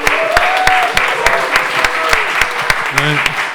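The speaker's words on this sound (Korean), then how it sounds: "우리 박수로 크게 환영해 주시면" An audience at a church event claps in welcome, a brief burst of dense applause with distinct sharp claps, a voice heard briefly under it.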